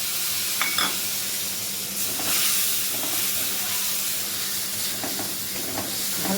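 Ginger and green chili paste frying in hot oil, giving a steady soft sizzling hiss with a few brief scraping stirs scattered through, moderately close and with no voices.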